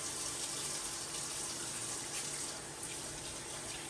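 Lukewarm tap water runs in a steady, even hiss and splash, continuous and moderately faint, with no voices.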